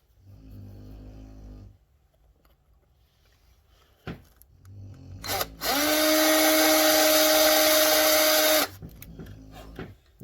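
Power drill boring into a homemade crankbait, a loud high steady whine lasting about three seconds, preceded and followed by quieter low whirring and a few clicks from handling.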